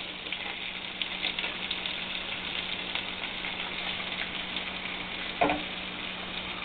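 Bacon sizzles in a pan with a steady, even crackle throughout and one brief louder pop near the end, with no voices over it.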